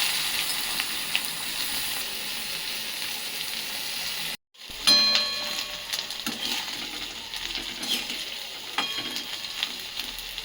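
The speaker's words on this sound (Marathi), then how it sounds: "हे बघा मसाला लावलेला बोंबील तेलात टाकून द्यायचा" Masala-coated dried Bombil fish crackles and spits in hot oil, a bright sizzle broken by a short silence, then resuming louder with sharp popping bursts up close.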